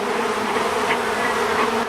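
Bees buzz densely in a hive, a steady close swarm drone with no pauses and no voices.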